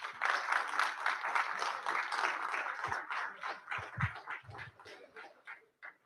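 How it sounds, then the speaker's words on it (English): Faint, distant applause from an audience at a tech conference talk rises in a steady clatter of many hands, then thins into scattered claps and fades out. "Applause is for Wei, not for me"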